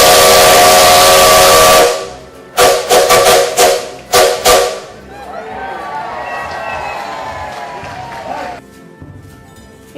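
A Maria Fumaça steam locomotive blows a long, loud whistle, then several short sharp blasts, followed by hissing steam and a fainter tonal sound fading away.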